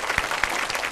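Audience applause from a studio crowd on a Vietnamese matchmaking TV show, a short burst of clapping at moderate volume.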